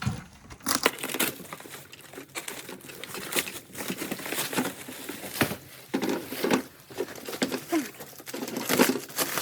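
Crinkling plastic and tearing tape as a package is pulled open, close up, in irregular bursts of rustling and ripping.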